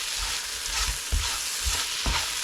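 Idiyappam biryani ingredients stirred and mixed in a hot pan, with repeated scraping strokes over a steady close sizzle and no talking.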